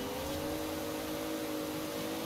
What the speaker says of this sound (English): It's got a lovely turbo flutter.